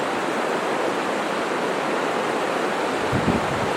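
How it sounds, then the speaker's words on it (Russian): River rapids rush in a loud, unbroken wash of churning water, close by and steady throughout. "Слева и сзади от меня жуткий порог"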